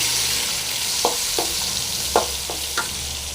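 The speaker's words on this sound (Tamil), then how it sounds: "வெங்காயம் நல்லா ஃப்ரை ஆகிடுச்சிங்க" Onions fry in ghee with popped mustard seeds and give a loud, steady close sizzle. A handful of soft spatula knocks sound at spaced intervals, and nobody talks.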